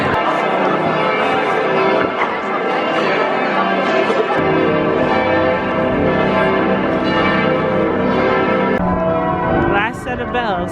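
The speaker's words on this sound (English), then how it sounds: "Last set of bells before we go" Church bells ring out across Frankfurt on Christmas Eve, a full, overlapping peal of several bells sounding continuously, with crowd murmur and voices underneath.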